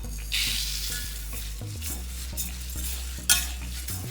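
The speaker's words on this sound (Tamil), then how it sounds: "இப்போ கொள்ளை போட்டு வறுக்கணும்." Horse gram dry-roasting in a pan is stirred steadily, a close rattling, scraping shuffle of hard seeds with low background hum and a sharper clatter near the end.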